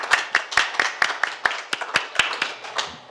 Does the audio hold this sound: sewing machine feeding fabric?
no